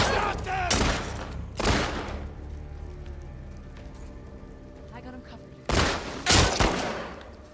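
Gunfire in The Last of Us Part II on PlayStation 5: loud, sharp bursts of shots come in clusters at the start and end, with a quieter lull between them.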